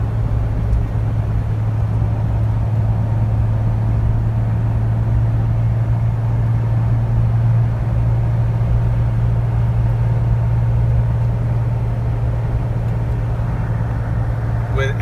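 A 2006 Jeep Wrangler LJ cruises straight down the road, its engine and tires making a steady, loud low drone that holds evenly from start to finish.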